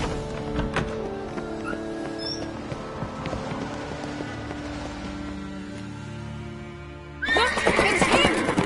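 Horse whinnies and hoof clatter in a PS4 game, a neigh near the start over a steady score, then a louder burst of galloping near the end.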